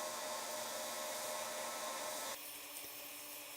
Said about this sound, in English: I'm using the bottom wheel to grind in the curved facets